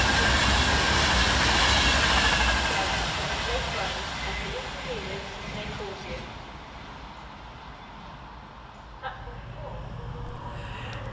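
Class 390 electric train 390.155 passes through Stafford station with a loud rushing roar of wheels and carriages that gradually fades, while someone talks over it.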